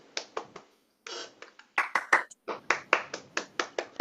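A small audience claps for Math Kangaroo winners, a sparse, close run of distinct, separate handclaps that briefly pauses before picking up again.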